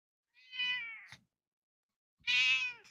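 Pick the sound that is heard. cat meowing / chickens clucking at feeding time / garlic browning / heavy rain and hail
cat meowing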